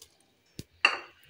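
A pressure cooker of soaked mixed dal gets its lid shut: a brief clink, then a sharper metallic clatter and scrape as the lid sets in place, near and short, without talk.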